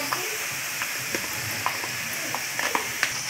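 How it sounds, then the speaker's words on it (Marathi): Two finely chopped tomatoes sizzle in hot oil over onions that have already browned, being fried for a dry fish fry. A soft, steady hiss runs throughout, broken by small scattered pops and stirring clicks. "आता आपण त्यात टोमॅटो टाकूया।"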